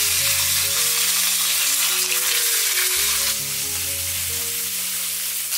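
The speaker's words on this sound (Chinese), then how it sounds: "油温热了，把鱼放进来煎到2面金黄" Loud, dense sizzling of sea fish pan-frying in hot oil fills the clip, with soft background music playing underneath.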